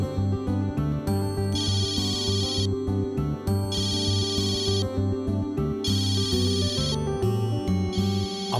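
A mobile phone ringtone for an incoming call plays a bright, repeating melodic phrase in regular cycles over a steady backing beat, loud and close, with no talking over it.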